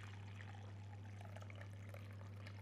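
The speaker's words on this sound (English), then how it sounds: "I'm just going to simply pour straight in" Raspberry and prosecco jelly is poured straight into a trifle dish, a faint, steady liquid trickle heard alone over a constant low electrical hum.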